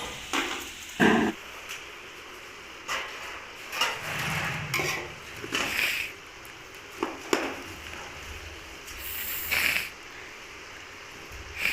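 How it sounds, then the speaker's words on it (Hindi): Carrots tipped into a pot of hot ghee for carrot halwa, with metal utensil clanks, scraping and stirring against the pot and a faint sizzle in a home kitchen, no speech. "इसी में हम गाजर सारे गाजर इसमें डाल के"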